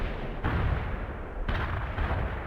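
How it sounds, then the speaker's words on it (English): An artillery barrage rumbles in the war video game World in Conflict as a dense, continuous roar of heavy booms. Two sharper blasts punch through the rolling thunder. "Commencing the barrage. Artillery strike on the way"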